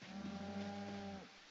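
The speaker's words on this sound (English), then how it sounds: "Oh, there's cows." A single long cow moo from the Project Zomboid video game, steady and clear, lasting just over a second before fading.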